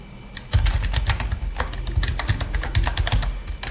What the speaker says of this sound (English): trust me, I'm typing what I need